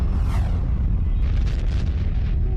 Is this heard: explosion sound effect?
yes